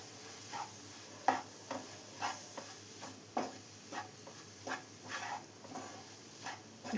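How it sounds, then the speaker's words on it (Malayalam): Spice powders for chicken keema are stirred in a pan over a low flame, giving soft rhythmic scrapes and knocks about every half second over a faint sizzle. "ഇതെല്ലാം ചേർത്ത് നന്നായി ഒന്ന് മിക്സ് ചെയ്തെടുക്കാം"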